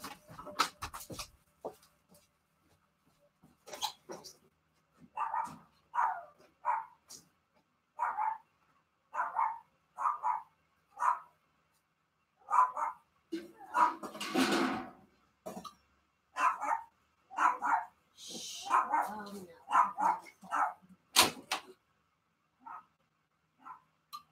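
Little puppies bark outdoors beyond a closed door in a steady string of short, sharp yips and barks, fairly distant and muffled, with brief gaps and a few louder bursts.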